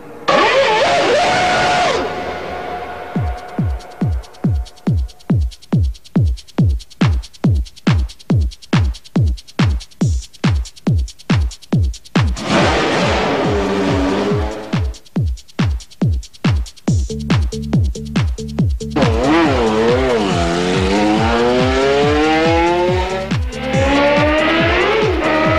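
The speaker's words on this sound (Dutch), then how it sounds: "Afgelopen zomer mocht Allard Kalf op Donington rijden in de 1997er Tyrrell van Jos Verstappen" A 1997 Tyrrell Formula 1 car driving at Donington, its engine starting with a rapid pulsing throb that repeats steadily, then rising and falling in loud revving sweeps as it accelerates and shifts nearby.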